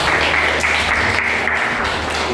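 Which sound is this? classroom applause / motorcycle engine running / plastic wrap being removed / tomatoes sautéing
classroom applause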